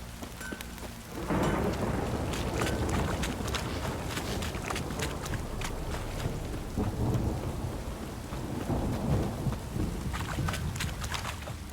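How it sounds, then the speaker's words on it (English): A steady downpour hisses in The Witcher 3, with rumbling thunder and crackling strikes rolling through the heavy rain for several seconds, no voices present. "Don't stop raining, my arse will rot"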